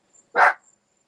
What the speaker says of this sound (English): As he gets rid of the barking dog there